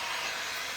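A hair dryer blowing steadily over a freshly painted vintage frame, a close, constant airy whoosh with no breaks.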